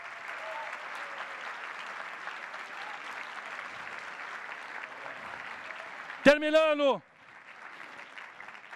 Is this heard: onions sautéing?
no